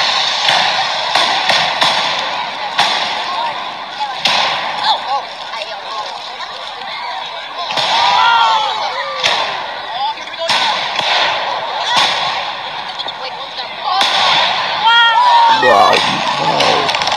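Independence Day fireworks in the USA crack and thump in repeated sharp bursts at irregular intervals over a background of crowd noise, with people talking throughout.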